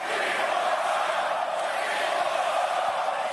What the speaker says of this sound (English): Boy, the round of applause he's getting right now is pretty staggering.